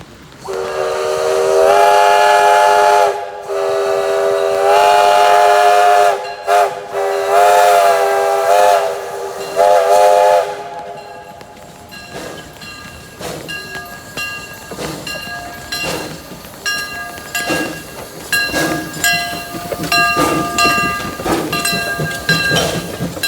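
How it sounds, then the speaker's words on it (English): Steam locomotive number 2 at a train museum lets out a long, loud multi-tone whistle blast in several pulls, then rumbles past with a full set of coaches, the rolling clatter and rhythmic wheel clicks continuing close by. "number 2 came racing around the corner with its full set of coaches, bound for the station, with a great whistle blast."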